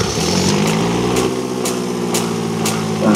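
A beater car's engine idles in the BeamNG driving game, a steady, close, droning hum with a harmonic whine and faint periodic ticks, with no voices.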